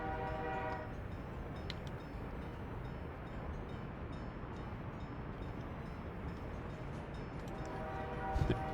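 In the video game Workers and Resources, a train rolls along with a steady rumbling drone, and its horn sounds in short tonal blasts near the start and again near the end.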